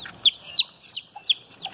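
Chicks from GLZ and ISA Brown laying hens give high, sharp peeping chirps, about five quick calls in an uneven rhythm, close by and clear, heard without talking.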